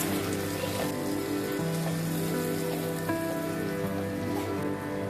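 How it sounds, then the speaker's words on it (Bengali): Ginger-garlic paste frying in hot oil for a Bengali chicken curry gives a steady, close, dense sizzle and crackle that continues unbroken, with no talking. "আদা রসুনটাকে ভেজে নিব যেন রসুন আদা রসুনের কাঁচা গন্ধ না থাকে"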